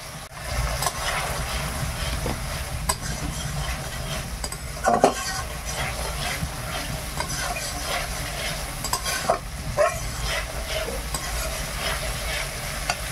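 Turmeric-laced spice paste for a Bengali fish curry frying in a pan, with a steady continuous sizzle and repeated scraping stirs of a spoon against the metal, close and fairly loud, with no talk.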